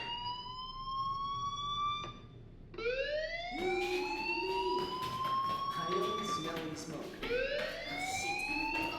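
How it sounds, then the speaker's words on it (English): A loud electronic fire alarm in the video game Life is Strange whoops repeatedly in rising sweeps, each tone gliding upward, continuous and close with a brief gap between cycles. "Hey, do you hear that fire alarm? That means you should be outside."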